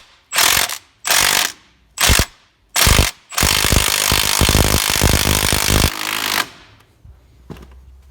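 A ratchet on an Audi TT Mk1 turns a bolt to pull the outer CV joint off the drive shaft. It runs in four short loud bursts, then one long continuous clicking run, then fades.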